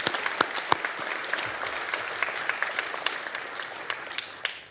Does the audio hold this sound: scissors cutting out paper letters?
no